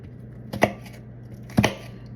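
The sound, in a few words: chopping vegetables for meatloaf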